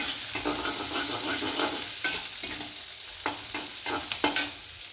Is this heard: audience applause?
no